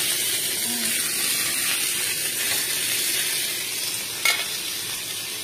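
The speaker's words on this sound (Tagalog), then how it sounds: "Prito ako ng dalawang isda." Two fish sizzle and crackle steadily in hot oil in a pan, a continuous bright frying hiss with a brief clink near the end.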